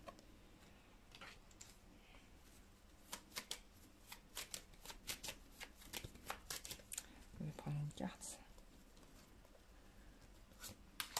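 A deck of tarot-style reading cards is shuffled and handled in a quiet room, giving a series of crisp close riffles and taps, irregular and faint, with a few soft knocks.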